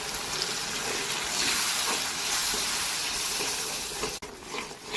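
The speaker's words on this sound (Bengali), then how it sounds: "আর দিব হালকা অল্প একটুখানি পানি" A little water poured into spice paste in a pan for pigeon curry, a close steady splashing pour that stops abruptly near the end, followed by quieter sizzling.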